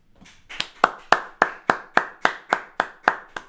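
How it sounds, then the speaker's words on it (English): Applause for a music show's producer, heard as a single pair of hands clapping close up, about a dozen crisp claps in a steady, even rhythm after a brief quiet start. "let's give a round of applause for the producer, my good friend Owen Buckley"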